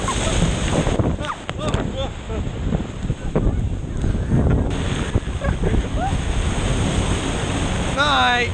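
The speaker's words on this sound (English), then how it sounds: "This wind is driving me nuts." Strong wind roars steadily across a cold beach at Wildwood, buffeting the microphone continuously beneath surf, with people talking and bird calls scattered throughout.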